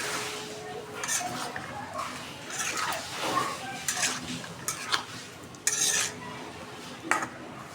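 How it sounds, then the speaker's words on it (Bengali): Meat and large potato chunks are stirred with spices in a pot for biryani, with repeated metal spoon scrapes and clinks against the pot over a faint sizzle, and a voice speaks briefly in between. "এখন ভালোভাবে একটু মশলার সাথে কষাই নেব"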